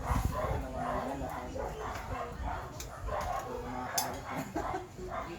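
A dog barks and yips repeatedly in quick bursts, fairly close, with some faint voices in the background.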